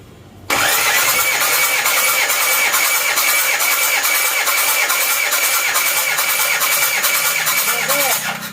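An Isuzu Panther diesel engine cranks on its starter during a compression test, a loud, steady, rhythmic churning that begins abruptly after a brief quiet moment and runs without pause until it fades at the very end.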